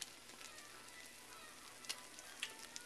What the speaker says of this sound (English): you can hear the sizzle